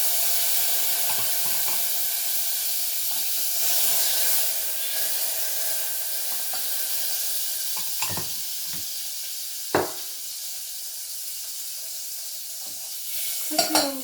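Solid fat sizzles and hisses steadily in a pan while the base for a village-style tarhana soup is started. The frying is close and continuous, broken by a few sharp taps and scrapes of a utensil near the end.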